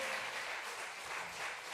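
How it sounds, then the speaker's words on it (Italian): An audience at a literary prize ceremony applauds, a dense, even patter of many hands clapping at once, sustained and moderately loud with no voices over it. "Allora facciamo un altro applauso"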